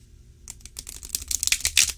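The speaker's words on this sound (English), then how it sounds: "Let's give him a shuffle." A 44-card oracle deck shuffled by hand, quick dry clicking and riffling that builds from faint taps into a dense, crisp flurry over about two seconds, with nothing else heard.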